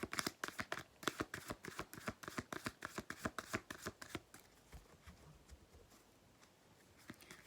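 Tarot cards are shuffled close up in rapid, rhythmic riffles for about four seconds, then quieter soft shuffling and handling follows.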